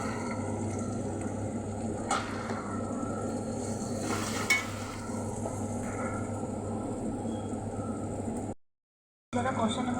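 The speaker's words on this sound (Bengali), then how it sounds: "আদা লঙ্কা জিরে ভালো করে কষিয়ে নেবো" Ginger, chili and cumin fry in a pan with a soft, steady sizzle, broken by a few scraping stirs of the spoon and a brief silent gap near the end.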